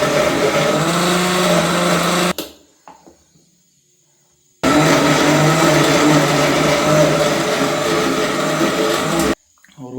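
A mixer grinder blends tomatoes in a loud, steady whir, running for about two seconds, pausing briefly, then roaring again for several seconds before stopping.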